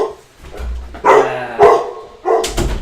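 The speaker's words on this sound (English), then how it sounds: "That's my dog" A dog at home barks in several loud, close bursts, with a yip between them, alone without talk.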